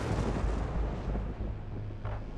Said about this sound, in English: The thunder is loud.